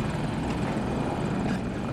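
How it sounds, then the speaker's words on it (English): A helicopter in a squad-based military shooter on the Hourglass map keeps up a steady rotor and engine roar, continuous and fairly close throughout with no talk. "Got a chopper up on Alpha 1."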